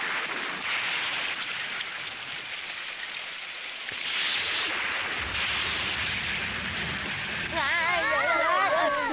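Steady rain hisses throughout a Doraemon cartoon scene, a dense wash of drops that continues unbroken, with warbling tones rising over it near the end.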